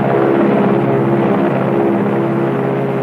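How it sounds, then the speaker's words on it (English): A bomb-carrying plane roars through its run, a loud sustained engine drone with a steady low throb that holds unbroken throughout. "The bomb-carrying plane makes its initial run."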